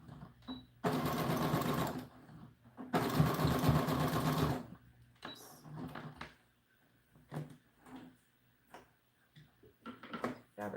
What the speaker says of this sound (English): Let's go ahead and zigzag our sides for this.